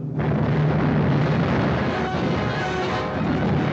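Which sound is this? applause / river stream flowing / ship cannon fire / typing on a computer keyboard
ship cannon fire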